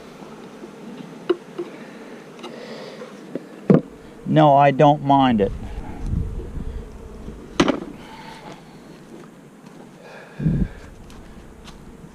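Honeybees from different hives hum continuously while nucs are put together, the droning buzz running under a man's speech, with occasional knocks and taps of hive gear.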